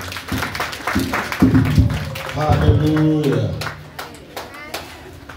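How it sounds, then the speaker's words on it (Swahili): A church congregation in Musoma claps in a steady rhythm while a few ululating cries rise over the crowd, with a voice calling out in praise partway through. "Nisaidie pia kumshangilia Bwana kwa makofi na vigelegele."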